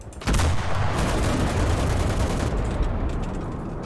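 A heavy explosive pack blast in a World War-era tank combat game, followed by a sustained roar and rumbling gunfire that stays loud and dense and then slowly eases off.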